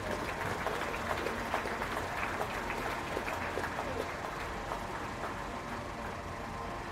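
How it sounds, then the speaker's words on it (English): A crowd claps steadily and continuously at a county fair beef show, dense, even applause filling a large indoor space. "Let's give those young people a round of applause, please."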